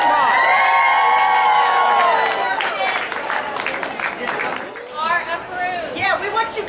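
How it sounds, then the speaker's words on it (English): A large convention crowd at Walker Stalker Con Atlanta cheers and shouts loudly indoors, a dense roar of whoops and voices that dips briefly before surging again. "Give a round of applause."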